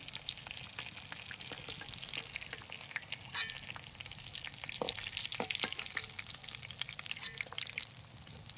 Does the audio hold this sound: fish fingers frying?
yes